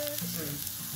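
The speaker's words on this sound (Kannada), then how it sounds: "ಫ್ರೈ ಮಾಡ್ಕೊಳ್ಳಿ." Ginger, garlic, cardamom and cloves frying in oil, a brief, steady close sizzle with faint stirring, no voices.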